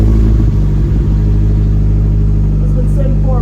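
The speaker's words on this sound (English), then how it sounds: "let me bless you guys with a cold start" A high-boost Mazda Miata engine cold start: it cranks and catches, settling into a loud, steady rumbling idle close by.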